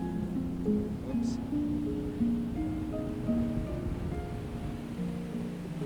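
Waves washing and crashing on a Belize shoreline, heard as a continuous rolling surf wash with some wind across the microphone, steady and moderately loud throughout.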